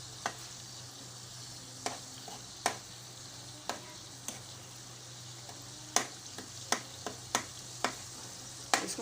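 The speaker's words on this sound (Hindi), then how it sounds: "इसको मसाले में डाल के हम तोड़ के इसको अच्छी तरह मिक्स कर देंगे।" A chicken stock cube is stirred into masala in a pan while cooking aloo matar, with a soft sizzle and sharp scraping clicks of the spoon at an uneven rhythm, close and fairly quiet.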